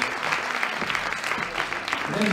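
An audience claps in celebration at a team-sport performance event, a brisk burst of applause with voices mixed in and a faint tonal sound rising near the end.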